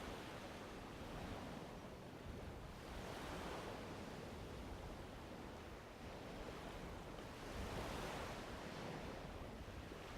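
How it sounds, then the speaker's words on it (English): Waves of water wash in and recede in a continuous soft roar with slow swells every few seconds, heard quietly outdoors with some wind and no talking. "Just enjoying the sounds of the water."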